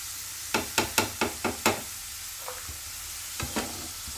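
Sweet corn deep frying in hot oil, with a steady sizzle under a quick series of sharp clinks and taps from stirring or scooping, then a few softer knocks.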